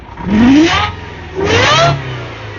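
Loud supercharged Subaru Vivio engine revving twice, each rise carrying a climbing supercharger whine before easing off, close and alone.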